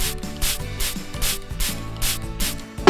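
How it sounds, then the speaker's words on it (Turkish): Short bursts of Minnie Mouse hair spray from a pump bottle are sprayed onto a doll's hair, several hissy puffs coming in an uneven rhythm, close and fairly loud with no talking. "İşte şimdi saçlarımıza bir parça Minnie Mouse'lu saç spreyi sıkıyoruz."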